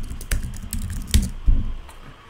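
Search keywords are typed on a computer keyboard in quick irregular bursts of clicks, with a few sharper key strikes standing out, close and fairly quiet, and no talking over it.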